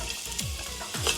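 Garlic frying in a pan for Filipino-style spaghetti, a close, steady sizzle with two sweeping stirs of the spatula, no voices.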